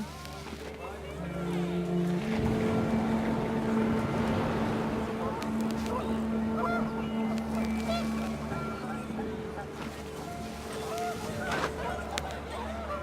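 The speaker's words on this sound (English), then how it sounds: "The wind picked up, and panicked geese appeared and quickly went." Panicked geese honk in the video game What Remains of Edith Finch, several loud overlapping calls over a windy outdoor rush, with a spoken voice narrating over much of it.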